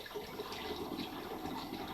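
Caramel pours steadily and continuously into a glass throughout, a soft close splashing stream with a faint airy hiss.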